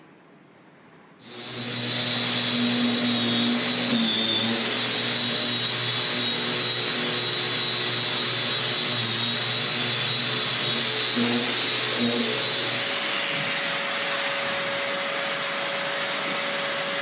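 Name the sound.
floor sander sanding wood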